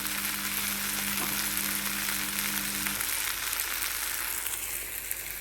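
Eggplant pieces fry in a pan with a continuous, even sizzling hiss, close and fairly loud, while a faint low hum runs underneath for the first half; no one speaks.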